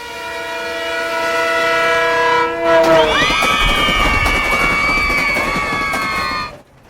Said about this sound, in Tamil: super fast express